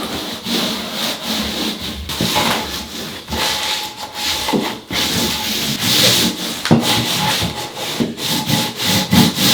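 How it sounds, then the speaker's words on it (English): Scrap 2x4 wood block rubbed back and forth over bathroom tile set in thinset, repeated rasping scrubbing strokes, close and fairly loud, with no talk. "I take a scrap 2x4, and I'm just going to start smoothing it into the thin set"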